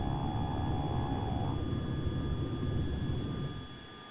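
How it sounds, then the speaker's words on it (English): AV-8B Harrier jet in the Tiny Combat Arena game roaring at full takeoff power, a loud steady engine rush with a high whine that holds throughout and eases slightly at the end. "So what I do in the takeoff of the Harrier is I apply full power"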